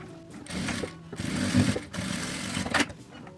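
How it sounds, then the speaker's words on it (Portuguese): A sewing machine runs a straight seam through fabric for a necessaire-style vanity case, stitching in close whirring bursts with short pauses between them, near and moderately loud, with no voices. "vou passar uma costura reta aqui com a distância de um pé de máquina"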